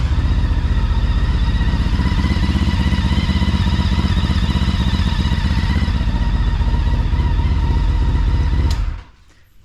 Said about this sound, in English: I'll go ahead and start the bike